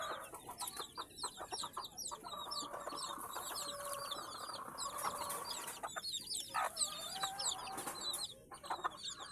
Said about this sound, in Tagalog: papasok tayo dito sa ating kulungan ng mga sisiw